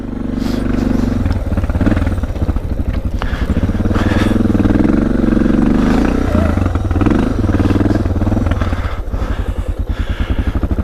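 A dual sport motorcycle engine runs steadily and loudly near a mountain pass summit in California, with a continuous throbbing drone and some clatter throughout.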